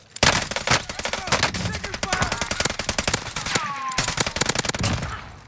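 Finn LMG light machine gun in a first-person shooter, rapid sustained bursts of loud close gunfire with short gaps, other game effects faintly behind.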